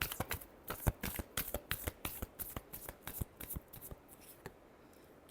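Tarot cards being shuffled by hand, a quick series of crisp riffling snaps and flicks in an irregular rhythm, close but fairly quiet, tapering off toward the end.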